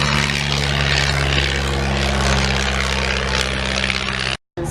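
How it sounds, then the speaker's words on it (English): Spitfire propeller aircraft roaring steadily overhead at a Battle of Britain air show at Headcorn, a loud, continuous engine drone with a strong low hum that cuts off abruptly near the end. "Spitfires."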